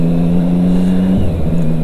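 A Triumph Street Triple 675R motorcycle engine idles unevenly up close, with a loud, steady rumble whose pitch wavers and dips as the idle speed hunts up and down.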